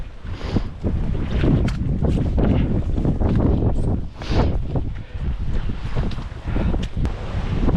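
Strong gusting wind on open moorland tops with swirling mist buffets the microphone in heavy, uneven rushes, roaring loudly with brief lulls between gusts.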